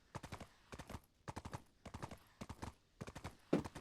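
A horse's hooves clip-clop in the video game Black Desert Online, a steady galloping rhythm of grouped hoof beats at moderate volume that carries on throughout.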